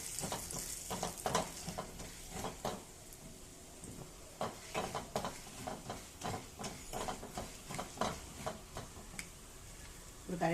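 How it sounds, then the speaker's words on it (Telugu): Dried red chilies and lentils tempering in hot oil in a pan for a Telugu aratidavva pesara pappu curry, with a steady sizzle and scattered clinks of a spoon stirring throughout, close and moderately loud. "అలా మిరపకాయలు వేసి ఇలా కొంచెం పప్పు 2 నిమిషాలు వేడెక్కితే అయిపోతుంది."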